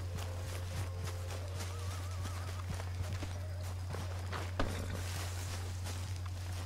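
Steady clip-clop of horse hooves walking at a moderate pace in Red Dead Redemption 2, fairly faint under a constant low hum and scattered game sounds.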